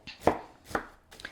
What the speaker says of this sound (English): Now I'm going to chop this up to a good chop,